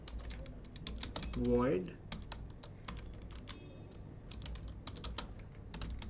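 Computer keyboard typing code, quick irregular key clicks spread across the stretch, with a short spoken word partway through.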